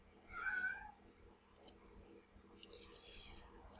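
A house cat lets out a short, faint meow close by, followed by soft clicks and light rustling in a quiet room.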